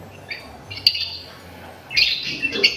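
Pet lovebirds let out sharp squawks and bright chirps in short bursts, close to the microphone, with quieter gaps between the loudest calls.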